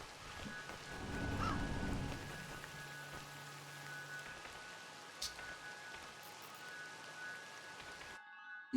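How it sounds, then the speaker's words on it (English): Steady rain falls in the horror game Crow Country, a constant soft patter with a brief low rumble near the start and a faint hum underneath. "It's raining here."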